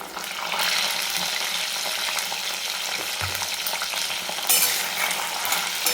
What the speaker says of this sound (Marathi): फुल गॅसवर आपण याला 2 मिनिट आपण परतून घेणार आहे